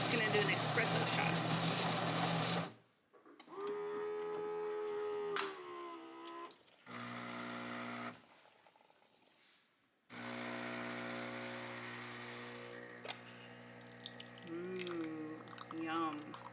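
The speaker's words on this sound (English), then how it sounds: "he's grinding the beans first" A new home coffee machine grinds beans and then brews an espresso shot, with a steady mechanical whirring and buzzing hum broken by short pauses, and someone speaking over it.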